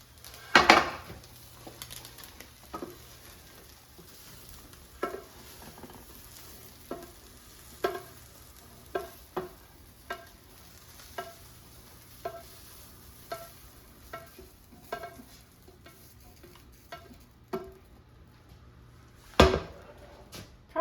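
Ground turkey and potatoes cooking in a frying pan as the one-pan dinner is scooped out, a low sizzle under regular scrapes and knocks of a utensil against the pan, roughly every two seconds, with a louder clank near the end.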